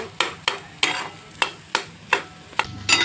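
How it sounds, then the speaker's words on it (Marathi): Egg bhurji stirred in a pan with a spoon: sharp scraping taps land every half second or so, up close, over a soft frying sizzle, with no talking. "जेवढं जेवढं फिरवलं ना तेवढी तेवढी मस्त अंड्याची भुर्जी आपली मोकळी मोकळी होती"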